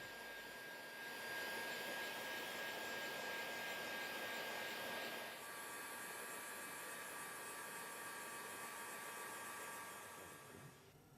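A heat gun blows hot air across car wrap film, a steady airy rush that holds constant for about ten seconds before tapering at the end, moderately quiet and heard alone.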